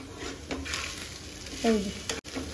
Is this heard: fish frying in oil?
yes